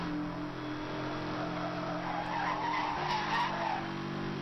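A car drifts with skidding, squealing tires over a steady engine drone in the Need for Speed: Hot Pursuit racing game, the screech continuous and loud throughout.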